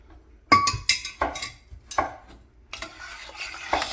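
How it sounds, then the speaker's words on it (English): Sugar stirred into milk in a pot for homemade yogurt: a spoon scrapes and clinks against the pot in several quick bursts, with short pauses between and a longer swirling stretch near the end. "Stir it around."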